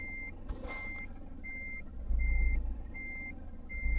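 A truck in Euro Truck Simulator 2 gives a regular series of high, evenly spaced reversing beeps over a low engine rumble that swells midway, with no talk.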